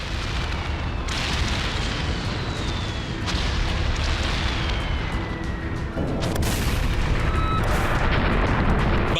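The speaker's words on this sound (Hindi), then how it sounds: "इजरायली एयरफोर्स ने हिजबुल्लाह के खात्मे के लिए बंकर बस्टर बम का इस्तेमाल किया।" Bunker buster bombs dropped in an Israeli airstrike on Hezbollah in Lebanon: a run of heavy, rolling booms with sharp blasts at intervals over continuous roaring rumble and faint whistling tones, with no voices.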